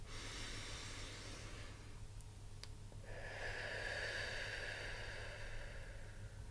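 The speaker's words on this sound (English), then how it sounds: "A middle breath." A steady breath of medium length taken during a guided singing warm-up breathing exercise, heard as a soft airy inhale and exhale close to the microphone over a low background hum.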